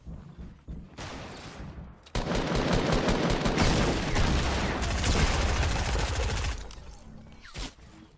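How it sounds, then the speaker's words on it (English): Gunfire in Fortnite Battle Royale: a short burst, then a long dense stretch of rapid automatic shots, loud and close, followed by a few scattered single shots. "Somebody just got sniped."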